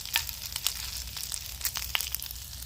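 Bacon crackling and spitting in a pan over a campfire at a solo overnight camp, a steady close sizzle dotted with sharp pops and crackles.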